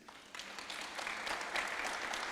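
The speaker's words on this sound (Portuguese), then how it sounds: "Salva de palmas para Jesus." A church congregation breaks into applause for Jesus during a sermon, starting soft and swelling into a fuller, steady clatter of many hands.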